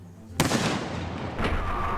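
A cannon fires at an octopus in a pirate video game, one sharp loud boom followed by a long rumbling decay, with a second, softer blast about a second later.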